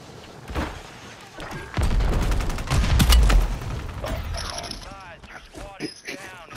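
Video game firefight with a few sharp gunshot bursts and a heavy boom in the middle, followed by scattered mechanical clatter, with a voice speaking over parts of it.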